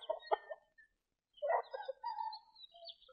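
Chickens cluck in a short series of quiet calls at a rural Kerala home in a Malayalam film scene, with a brief pause before more clucking resumes.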